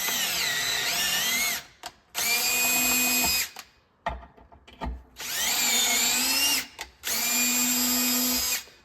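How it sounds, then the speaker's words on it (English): A power drill bores holes through 3/16-inch steel plate, two long loud whining runs each cut by a brief pause, then a gap with clatter and knocks before two more sustained drilling bursts. "it's just 3/16 plate, nothing fancy, this does fine on the drill"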